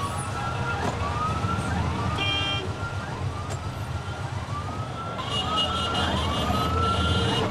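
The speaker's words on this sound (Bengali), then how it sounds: "ঠিক তখনই সাইরেনের একটানা আওয়াজটা ভেসে" Continuous siren sound effect from a Bengali audio drama, set on a main road near Ballygunge station. Loud, repeated rising wails sweep over and over with no break, heard alone without speech.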